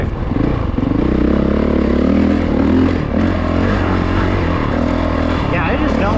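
Off-road vehicle on sand running with a loose chain, a loud, steady engine drone with a rattling clatter, heard up close.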